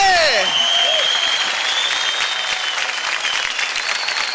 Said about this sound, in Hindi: जोरदार तालियां हो जाए कृति के लिए